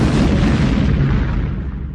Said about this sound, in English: I did find a clip with an example of an explosion with that amount of force.